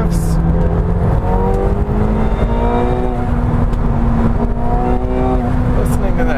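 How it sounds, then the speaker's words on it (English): Loud, close engine of a turbocharged 710-horsepower McLaren 720S pulling hard, its tone climbing steadily through a shift and continuing to rise, with heavy road rumble and turbo whir throughout. "Listening to that turbo."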